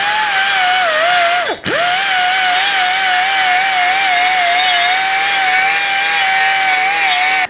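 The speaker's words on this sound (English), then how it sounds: "We're going to use our disc here to just clean the surface." A power tool with a disc cleans the gasket surface on a 1997-2006 Jeep Wrangler rear axle, a loud, steady high whine close up that dips briefly once.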